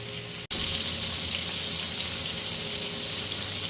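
Food sizzles steadily in a HexClad pan while being basted, a loud continuous hiss and crackle after a brief break at the start, with no voices.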